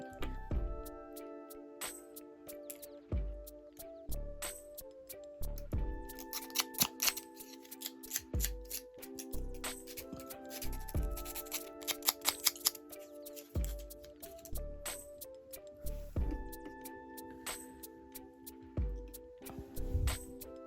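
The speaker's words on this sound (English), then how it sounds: "I gotta cut the wicks off at the bottom, and then just sandpaper them off" Scissors snip through candle wicks at the base in a series of crisp, close clicks and cuts, scattered over about twenty seconds beneath steady background music.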